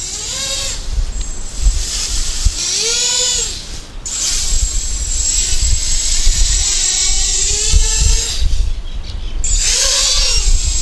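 Eachine Racer 250 FPV drone flying and flipping, its high motor whine surging and dropping in sweeping pitch bends as throttle is punched, loud and close, with brief cutoffs between maneuvers and no talk.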